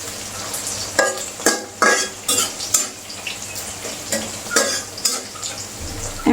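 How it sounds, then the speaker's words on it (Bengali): Onion, garlic and ginger paste frying in a pan, stirred with a metal utensil in repeated rhythmic scrapes about every half second over a steady sizzle, close up, with no speech. "এখন পেঁয়াজ রসুন আদা বাটা দিয়ে দিলাম।"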